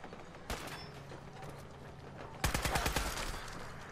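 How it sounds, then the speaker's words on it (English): Enemy gunfire in the post-apocalyptic shooter game Fallout 4: a single sharp shot, then a rapid burst of automatic fire near the end, over low game ambience with no talk. "I cannot tell where the bad guy's shooting is coming from."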